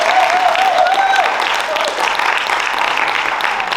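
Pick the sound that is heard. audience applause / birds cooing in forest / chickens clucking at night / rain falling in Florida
audience applause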